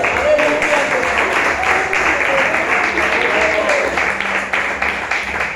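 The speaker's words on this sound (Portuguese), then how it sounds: "Aplauda Jesus." A crowd claps steadily in sustained applause at a church worship service, loud and continuous, with some voices mixed in.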